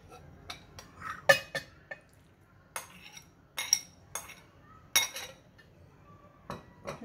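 Kaong being added to macaroni salad in a bowl: scattered light clinks and taps of a utensil against the bowl, about a dozen short sharp knocks at irregular intervals, close and fairly quiet.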